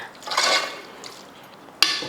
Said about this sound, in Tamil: இதில் தண்ணி சேர்த்துக்கலாம்